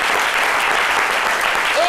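Steady applause fills the room, dense and even, with no clear voices breaking through.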